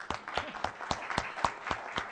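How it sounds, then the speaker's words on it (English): A small crowd at a CEO roundtable claps in a quick, regular rhythm, individual claps distinct and fairly close, with no talking over it. "yes, of course, round of applause"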